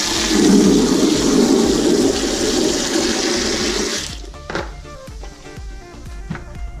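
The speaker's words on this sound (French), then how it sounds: "Voilà, petit changement d'eau." Water being poured out and changed while washing a foam air filter: a loud, steady rushing gush for about four seconds, then quieter sloshing and small splashes, close up.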